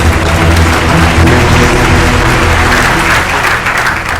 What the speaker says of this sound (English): A big round of applause, please.